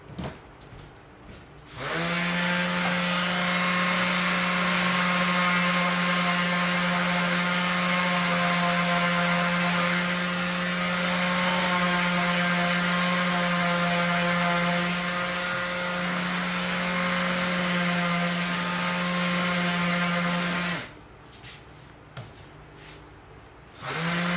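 A power sander whirs steadily at a high, grinding pitch on wood for about twenty seconds, starting and stopping abruptly, loud and close.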